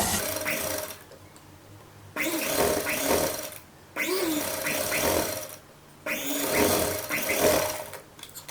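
A sewing machine stitches piping around the neck corners of a kurta in bursts of steady mechanical whirring, each run lasting about two seconds and separated by short pauses while the fabric is turned.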